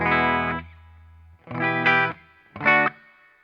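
Electric guitar played through a Fender Hot Rod Deluxe III amp with reverb and no delay, on the bridge pickup: three ringing chord phrases separated by pauses, each leaving a short reverb tail, with no voices.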